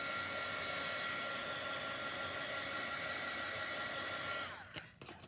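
Steady loud whoosh of a hand dryer blowing hot air onto chalk paste to dry it, continuous and close, before switching off near the end.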